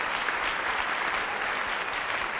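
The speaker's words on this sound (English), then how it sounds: "let's give our volunteers a great round of applause" An audience gives a steady round of applause to volunteers at a mathematics talk, dense and even clapping filling the whole moment with no pauses.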